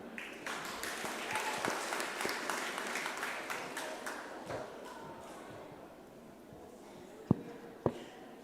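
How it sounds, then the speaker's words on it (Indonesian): Applause during a Sunday service at a Batak Protestant church fills the room with steady crowd clapping that slowly fades, followed by two sharp isolated claps or taps near the end. "silakan tepuk tangan"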